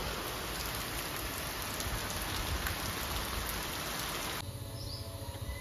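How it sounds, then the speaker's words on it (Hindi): Heavy rain pours down in a dense, constant hiss throughout, close and loud, easing slightly in tone toward the end. "अभी देखो कुछ दिखाई नहीं दे रहा इतनी बारिश गिर रही है"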